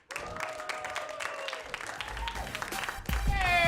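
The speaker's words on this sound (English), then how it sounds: "a big round of applause for my good friend Tucker Millett" Audience applause for a comedian at a Chicago comedy show rises in scattered claps, steady and moderately loud, with voices talking and calling out over it and the clapping swelling near the end.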